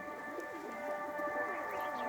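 A pigeon coos close by in a soft, continuous warbling rumble, heard alone over a steady background hum.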